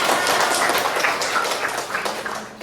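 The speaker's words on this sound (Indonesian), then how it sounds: "Tepuk tangan untuk dia." A sixth-grade class in an Indonesian school bursts into applause for a classmate, a dense burst of clapping that starts loud and tapers off over a couple of seconds, with no talking.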